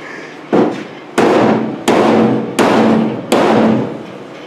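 Five heavy hammer blows strike a metal fender on a 1968 Triumph TR250 at an uneven pace, each a loud, close clang with a short ringing decay.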